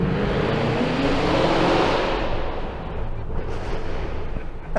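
Inside a parking garage, a 2023 Cadillac Escalade V with a supercharged 6.2L V8 and AWD lets out a loud, booming roar under hard acceleration that echoes off the walls, then fades over a few seconds.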